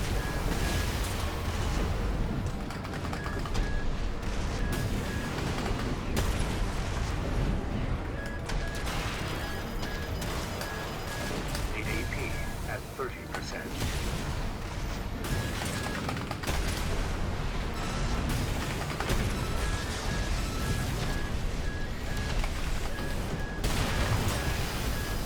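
Rapid grenade-launcher blasts and explosions from the mech combat game Armored Core 6 during ranked PvP, forming a dense, continuous barrage of booming impacts that stays loud throughout with no talk.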